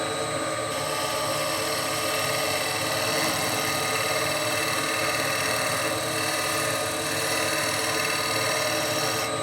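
A wood lathe spins a bowl blank while a turning tool takes light finishing cuts that throw only small shavings, giving a steady, dense whir with a grinding cutting texture that holds close and loud throughout.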